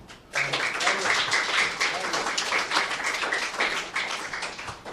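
An audience at a ghazal and qawwali gathering for an Urdu daily's anniversary breaks into applause for an honoured guest, steady clapping that begins abruptly and carries on with voices mixed through it.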